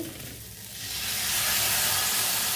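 Ginger and green chilli added to a pan of potatoes, the quiet simmer swelling into a broad hissing sizzle that grows louder and holds steady.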